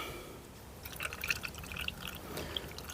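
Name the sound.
coolant being poured into a Peugeot 207 cooling system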